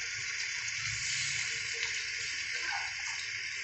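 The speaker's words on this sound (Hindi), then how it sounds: "मैं थोड़ा सा पानी ऐड करूँगी।" Water is poured into a covered cooking pot of potatoes and green beans, a steady, moderately faint hiss of flowing liquid lasting a few seconds with no voices.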